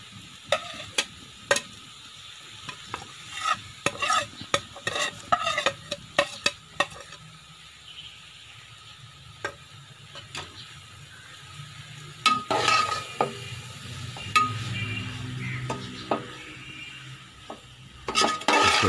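Eggs for a chicken egg roll are stirred in a frying pan, with a spoon scraping and clinking against the metal in irregular bursts over a soft, steady sizzle, close up and with no talking.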